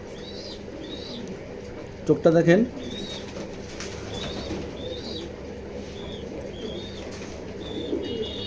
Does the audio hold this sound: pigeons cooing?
yes